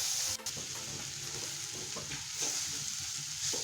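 Tomatoes being stirred into a spicy masala in a pan for masala pav, with a steady sizzle broken by repeated scraping stir strokes, close and fairly loud, no voices.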